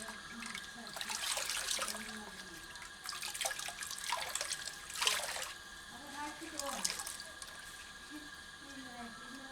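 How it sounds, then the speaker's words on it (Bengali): Clean water splashing and trickling while a container is rinsed and washed during homemade liquid organic fertilizer preparation, in intermittent bursts of running and sloshing water with a voice talking underneath. "এরপরে আমি আবার আলাদা জল দিয়ে পরিষ্কার করে নেব।"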